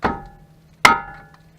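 A hammer smacks a metal front-end part on a Chevy Blazer twice, sharp ringing clanks about three quarters of a second apart, close and loud, each decaying with a metallic ring.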